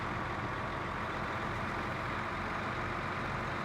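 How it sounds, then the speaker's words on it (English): A truck engine with a glass pack exhaust in SnowRunner drones in a steady, low rumble at a constant level, with no voices over it. "Glass packs have that, that classic sound."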